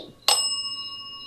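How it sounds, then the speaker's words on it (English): A single bright ding of a small bell, struck once sharply and left to ring out with a clear, sustained metallic tone that slowly fades in a quiet room of an 1858 hotel. "Are you by this bell? Could you set it off fast 2 times?"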